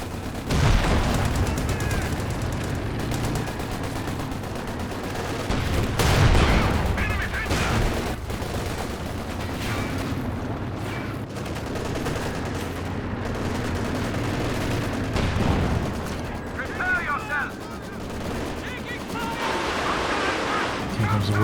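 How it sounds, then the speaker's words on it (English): Machine gun fire in a Company of Heroes 2 match, a dense battle soundscape of sustained gunfire bursts and heavy booms, loud and continuous throughout with overlapping explosions around the Panther tanks and artillery. "Machine gun in the center, a little bit of damage, not terribly impressive."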